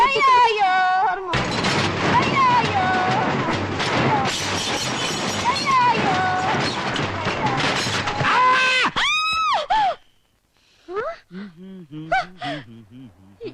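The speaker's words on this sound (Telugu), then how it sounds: "ఏంటి నాకేదో అరుపు వినిపించింది" A loud, sustained scream rings out for several seconds near a crusher, then breaks into gasping cries and short voiced sounds after a brief silence.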